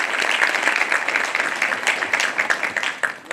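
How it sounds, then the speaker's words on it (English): An audience at a Phi Kappa Phi spring initiation ceremony at MTSU applauds Wendy Watts, giving a dense, steady round of many hands clapping that carries on for several seconds and starts to thin out near the end. "I want us all to give a round of applause to Wendy Watts."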